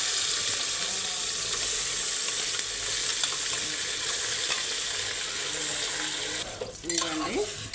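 Goat tripe hits hot oil with frying onions and sizzles loudly and continuously up close, the hiss dipping briefly near the end as the pan is stirred.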